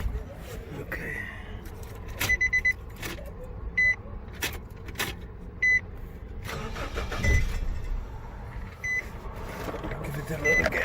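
A 2007 Nissan Frontier with a crank-no-start fault is cranked on a jump box, producing bursts of starter whirring between pauses, several chime beeps, and nearby people talking.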